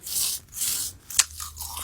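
Crunchy bites into crispy fried chicken during a mukbang, two close crackly crunches followed by a sharp snap and softer chewing, with no talking.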